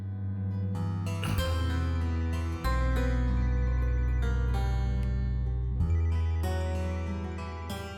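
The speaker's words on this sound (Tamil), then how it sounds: "போன் அடிச்சுது" A telephone rings with a loud, melodic electronic ringtone that repeats a short tune steadily for several seconds, heard alone without any talking.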